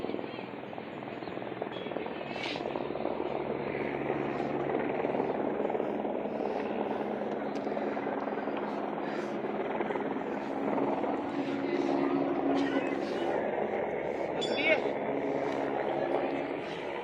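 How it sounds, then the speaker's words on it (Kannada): A helicopter flies over Kedarnath, its steady, moderately loud drone running throughout with faint voices now and then in the background. "ಹೆಲಿಕಾಪ್ಟರ್ ಬರ್ತಿದೆ."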